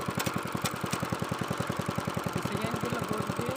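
A 5 hp power weeder engine runs in second gear with a fast, even chugging beat, loud and close throughout.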